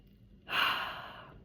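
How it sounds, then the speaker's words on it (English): A single deep breath drawn in slowly through the nose and mouth, a close, airy inhale that swells quickly and then tapers off, heard alone in a quiet room. "Deep breath in."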